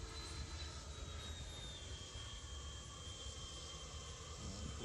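Freewing A-10 Thunderbolt II RC jet with twin 80mm electric ducted fans flying at about 60% power, a steady whooshing turbine roar with a high whine, continuous and moderately distant, no talking.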